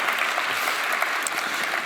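A plenary session audience gives a round of applause, a thick, continuous patter of many hands at a steady, loud level throughout, with no clear speech over it.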